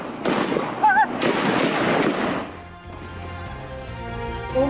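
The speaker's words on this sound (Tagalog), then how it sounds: "Umalingaw-ngaw ang mga putok na baril sa Barangay Simuay" Gunfire crackles during a police drug bust encounter in Barangay Simuay, Sultan Kudarat, Maguindanao del Norte, with rapid overlapping shots echoing for a few seconds before fading into quieter background noise.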